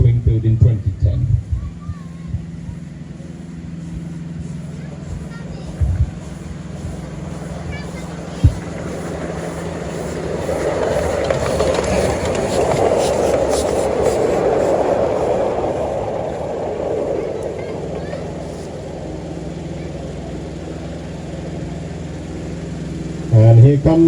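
A miniature diesel hydraulic locomotive, 7054, built in 2004, passes on the South Downs Light Railway during a gala cavalcade, a rumbling engine swelling as it nears and fading away, with people talking over it.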